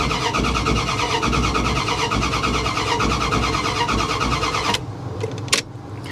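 A 2020 Mercedes G63 AMG engine cranks steadily at close range without catching, a continuous loud churning that stops abruptly near the end, followed by brief quiet and a short click.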